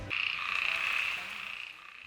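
Bullfrog croaking in a monsoon-season rainforest in Goa, one sustained nasal call held for about two seconds, close and clear over a quiet background.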